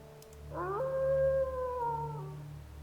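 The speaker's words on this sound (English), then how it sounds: "A wolf's howl pierces the forest silence." A single wolf howls in a forest, one long sustained wavering call that rises, holds and tails off, fairly clear against a quiet low hum.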